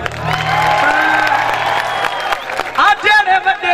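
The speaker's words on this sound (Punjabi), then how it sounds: "ਮਾਰ ਦੋ ਤਾੜੀ ਪਈ ਹੋਈ" Audience applause and cheering ring out at a live Punjabi concert, mixed with a singing voice and loud crowd shouts that swell near the end.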